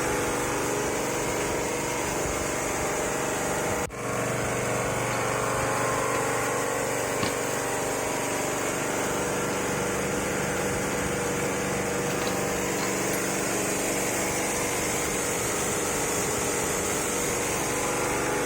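A coffee huller machine runs steadily with a continuous droning hum and blower whir, fairly faint, with a brief knock early on.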